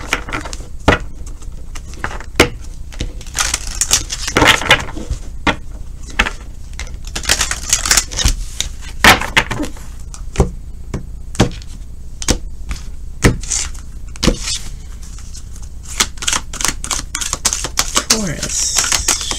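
Tarot cards are shuffled and drawn, giving repeated crisp snapping and flicking bursts in an irregular rhythm, close and fairly loud throughout, with some talk mixed in.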